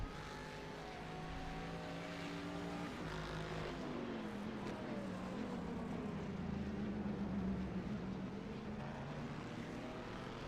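GT1 and GTE race cars in the iRacing video game run down the pit lane at Spa, their engines droning and rising in pitch as they pass, a continuous layered whine at moderate volume with no voices.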